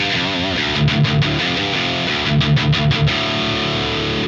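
Distorted electric guitar rhythm tone through a Harley Benton DNAfx GiT Pro multi-effects unit: thick chugging palm-muted chords in two rhythmic bursts, loud and close, with a sustained ringing tail.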